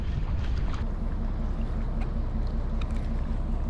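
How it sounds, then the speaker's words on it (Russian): Steady wind rushes across the microphone with a constant low rumble and faint water sounds throughout from a rowing boat during a rowing marathon, with no voices. "Ветер усиливается."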